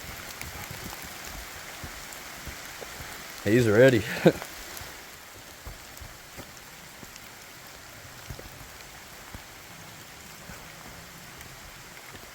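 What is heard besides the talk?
rain falling during a forest hike in Kentucky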